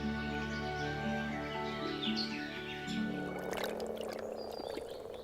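Moor frogs call from a shallow pond in Poland, a layered chorus of soft, steady croaks and droning calls with bird chirps mixed in, fairly distant and continuous, with no talking.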